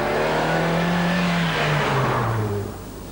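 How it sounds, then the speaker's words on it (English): Engine of a 1991 Nissan Sunny heard from on the move, a loud steady drone with a harmonic that shifts pitch as the car presses through the gears, easing off near the end. "there's also quite a lot of engine noise, particularly when you're pressing on through the gears"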